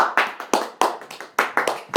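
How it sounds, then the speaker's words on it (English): A polite golf clap from one person: about ten light, separate hand claps spaced at an uneven, relaxed pace, close by, with no speech over them. "Very polite clap."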